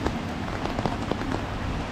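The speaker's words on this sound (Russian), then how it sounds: "идет дождик, поэтому не очень хорошо видно." Light rain falls on a street in Barcelona, Spain, a soft, steady hiss of drops with scattered small taps close by, with no voices.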